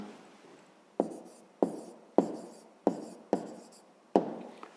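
A pen writes a math answer on paper by hand, close and quiet, in about seven short strokes. Each starts with a sharp tap and fades, with brief pauses between.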